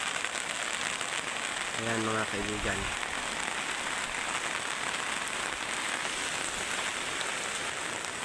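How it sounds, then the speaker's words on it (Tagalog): Steady, dense rain from a typhoon in Masbate Province, Philippines, hisses continuously, heavy and unbroken. Early on, a voice speaks briefly over it. "matindi po yung baha, dulot ng walang tigil, humpay na pag-ulan dito sa probinsya namin"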